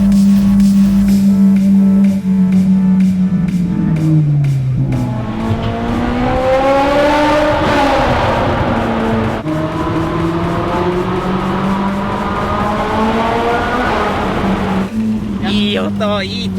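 Loud Ferrari engine roaring and reverberating inside a tunnel, revving up with rising pitch sweeps and sustained at high volume, with a person talking over the din at times.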